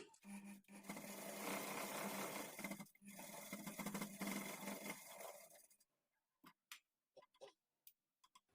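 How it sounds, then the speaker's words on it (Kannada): A sewing machine runs a steady, loud whirring line of stitches along a blouse seam for about six seconds, then stops; a few sparse clicks and knocks from handling the fabric follow in near silence. "ಈ ಥರ ಇಟ್ಕೊಂಡು ನೀವು ಸ್ಟ್ರೈಟ್ ಆಗಿ ಸ್ಟಿಚ್ ಮಾಡ್ಕೊಳ್ಳಿ"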